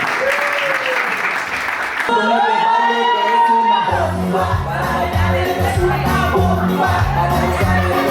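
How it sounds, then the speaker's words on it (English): Audience at a real estate company event gives a round of applause with cheers and whoops, a steady crowd roar over a music bed that shifts to a pulsing Latin beat midway. "Round of applause."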